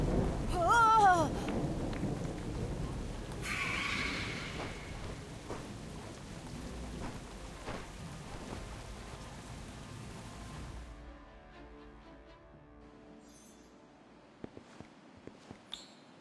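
Thunderstorm with steady rain in the Harry Potter Magic Awakened video game, a broad hiss running throughout with a loud rumble near the start that fades away, then quieter tones and light ticks near the end.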